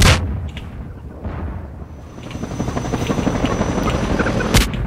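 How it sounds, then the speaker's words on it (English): Half-Life 2 combat helicopter dropping bombs, with a steady rotor drone and a run of loud, broadband blasts and crackling impacts close by, ending in a sharp burst. "Will you stop dropping bombs on me?"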